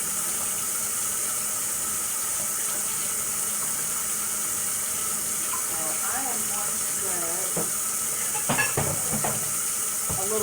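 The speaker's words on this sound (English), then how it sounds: "You're supposed to rinse quinoa before you cook it." Running tap water over quinoa in a kitchen sink, a steady broad hiss of flowing water that continues throughout, with brief clinks and splashes near the end.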